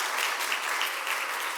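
A church congregation applauds in congratulation of a newly married couple during a Sunday service, a dense, even wash of clapping held at steady volume throughout.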